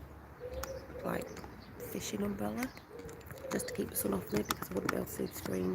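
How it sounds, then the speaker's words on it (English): Birds sing and chirp steadily in a sunny garden while a person talks close by over them. "you can probably hear the birds singing."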